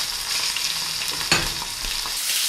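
Steak sizzles steadily in hot oil with garlic in a pan, a dense continuous crackling hiss with a brief louder spatter midway, close and with no talking.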